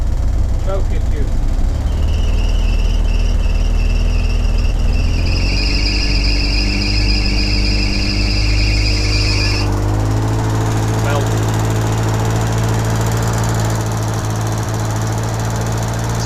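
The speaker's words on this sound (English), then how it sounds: "the fuel pump sounds loud again" A Bedford Rascal engine idles loudly with a steady drone while a high, whining fuel pump squeals over it, the whine rising in pitch midway and then dropping out as the engine note shifts.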